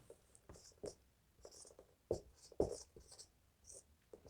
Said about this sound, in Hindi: लिख देता हूं मैं